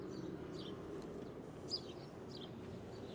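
A small bird chirps in short, repeated high tweets inside a hardware store stocked with plants, several faint calls spread over a steady background hum.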